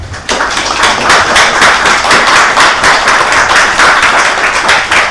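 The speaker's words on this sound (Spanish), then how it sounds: "pido un fuerte aplauso" A museum lecture audience applauds to welcome a guest speaker, a loud, dense burst of many hands clapping close by that sets in abruptly and keeps going steadily.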